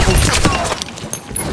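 A blunderbomb explodes in the pirate game Sea of Thieves, a loud broadband burst with crackling debris that fades after about a second, followed by scattered smaller impacts.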